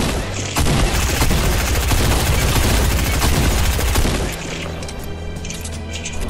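Dense, loud gunfire from a Fortnite match: rapid overlapping shots and bursts pile up for about four seconds, then ease into lighter, scattered firing with distant booms and background noise.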